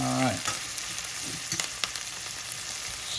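Onions sizzling with hamburger in a frying pan, a steady close hiss of frying with a few scattered pops and stirring clicks, no talking.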